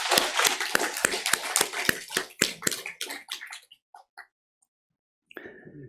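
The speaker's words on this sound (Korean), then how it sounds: "하나님께 감사와 영광의 박수 올려드리겠습니다." Church congregation applauding together during a Sunday worship service, a dense burst of rhythmic clapping that thins out and fades to silence before a voice resumes.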